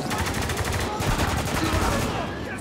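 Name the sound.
gunfire from the video game Spec Ops: The Line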